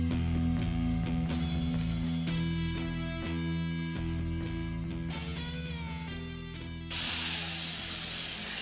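A grinder working metal on the bed of a Ford F100 truck, a sustained harsh whine with shifting tones as the worn stone bites, loud and close, turning brighter and scraping near the end.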